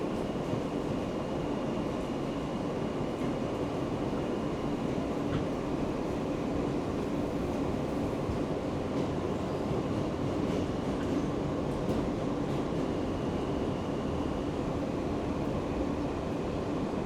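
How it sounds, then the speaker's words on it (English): A Brooklyn-bound R local train on the New York City subway rolls along with a steady rumble and rattling wheel noise, heard from inside the car, continuous and loud with faint high squeals. "This is a Brooklyn-bound R local train."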